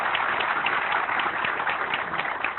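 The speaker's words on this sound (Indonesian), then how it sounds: "tepuk tangan untuk Pak Louis" Applause from an audience at a motivational talk, for a speaker named Pak Louis: a steady, dense wash of clapping hands lasting throughout, fairly loud with no voices over it.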